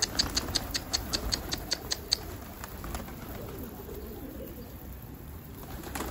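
Pet birds perched on top of their coop give faint, soft calls, with a run of light rhythmic clicks near the start and quiet outdoor background afterward.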